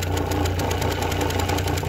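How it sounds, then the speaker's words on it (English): A noisy clutch motor on a Merrow M-3DW sewing machine runs as a steady, dense hum and rattle with a low drone, close and continuous throughout. "My clutch motor's making a lot of noise."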